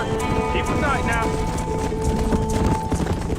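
Horse hooves gallop in Red Dead Redemption while cattle are herded across open pasture, a steady clip-clop running under game music, with people talking over it.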